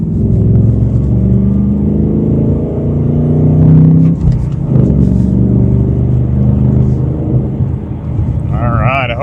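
A 2024 Ford Mustang GT with active exhaust accelerates hard on a road, its deep V8 rumble building steadily and loud for several seconds over wind noise, with a brief lift midway before pulling again.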